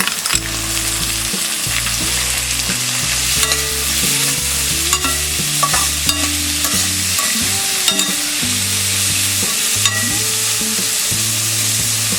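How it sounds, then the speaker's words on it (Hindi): Chopped vegetables including green peas and tomato fry on a low flame, a steady close sizzle punctuated by frequent rhythmic scraping and clanking of a spatula against the pan, with no voices. "इसे हम लो फ्लेम में फ्राई करेंगे"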